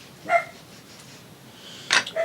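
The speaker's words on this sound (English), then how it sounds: "He's in there barking just loud enough to be annoying." A dog barks twice, short sharp yaps separated by a pause, somewhat muffled as if from another room, with quiet background between.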